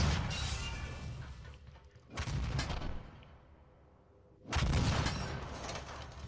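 Big gun in the Doom SnapMap video game firing on auto fire, three heavy booming blasts, each trailing off into a long decaying rumble.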